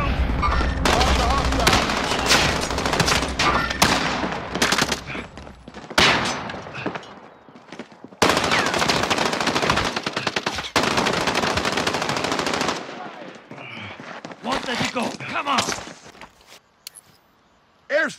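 Rapid machine-gun bursts in the video game Warzone, loud and close, come in long sustained volleys broken by brief pauses, with scattered single shots and a few softer stretches toward the end.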